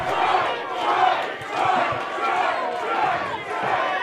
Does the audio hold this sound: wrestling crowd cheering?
yes